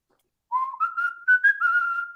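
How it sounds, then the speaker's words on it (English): A person whistles a rising, sustained melody with vibrato, several clear phrases in a row, close and alone with no other sound. "Some quality whistling, honestly."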